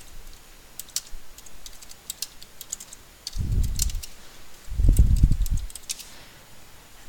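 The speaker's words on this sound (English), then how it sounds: "Type in the title of your blog post." Keys clatter on a computer keyboard in quick irregular bursts as a blog post title is typed, crisp clicks at close range with no voices, joined midway by two short low rumbling thumps.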